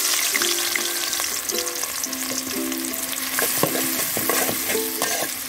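Chopped onions frying in soybean oil in a kadai over a wood-fired clay stove, a dense, loud continuous sizzle with stirring scrapes and faint tonal chirps in the background, no voices.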